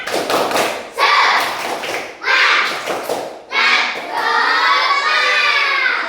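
Schoolchildren in an Indonesian classroom perform a rhythmic spirit clap in several loud bursts of patterned claps, with group shouting and chanting mixed in between and over them.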